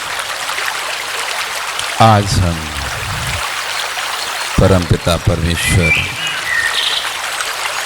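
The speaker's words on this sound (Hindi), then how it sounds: "जहाँ मधुरम कल कल करता हुआ पानी बह रहा है" Steady murmur of flowing stream water outdoors, a continuous trickling wash under a voice speaking calmly, with faint bird chirps.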